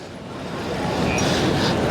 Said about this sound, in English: then while I was on the train